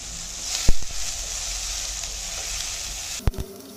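Steady frying sizzle of onions and tomatoes sautéing with salt and turmeric fills the pan, with a couple of sharp clanks of a utensil against metal near the start and end.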